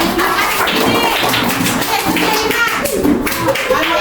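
Children in a primary school classroom clap together, a dense patter of hand claps close by with young voices chattering over it.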